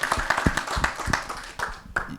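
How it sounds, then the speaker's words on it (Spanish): A fairly quiet audience at a book presentation claps, with loose individual hand claps landing in an uneven rhythm and thinning out toward the end. "con este aplauso entonces agradecemos a David, a Ruperto"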